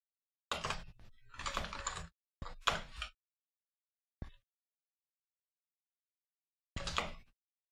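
Computer keyboard typing during C operating-system debugging, quick close bursts of clicky keystrokes separated by silent gaps, then a single tap and a last short burst.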